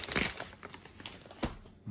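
Crinkling plastic wrapping is peeled off a packet of soil from a 4M Green Science Grow A Maze plant kit, with a few quick, close crumpling bursts over a couple of seconds.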